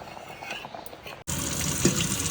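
Water from a tap gushes over boiled vermicelli in a perforated colander in a home kitchen, a faint rush at first, then suddenly louder and steady, splashing close up.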